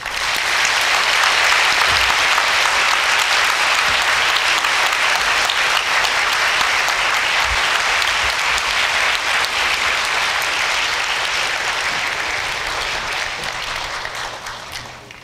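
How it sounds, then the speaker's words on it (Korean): Audience applause at a POSTECH university matriculation ceremony in 2019, a dense, loud, sustained clapping from a large crowd that holds steady for about fifteen seconds before tapering slightly at the end. "다시 한번 더 큰 박수로 축하해 주시기 바랍니다"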